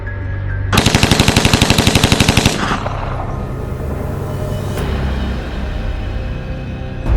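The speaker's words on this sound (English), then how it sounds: "The cannon unleashes its fury, tearing apart the enemy positions with devastating precision" A rapid, roaring burst of cannon fire from an A-10 Warthog lasts about two seconds, loud and close, then gives way to a rumbling, noisy aftermath of blasts.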